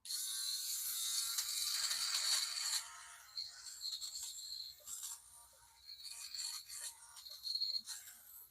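Conair nose hair trimmer running, a thin high-pitched buzzing whine that wavers and stutters as it is moved around, close and fairly quiet, with no talking.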